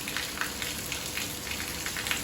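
Steady rain pours down, a dense hiss with scattered louder drops pattering on a surface, continuous and close.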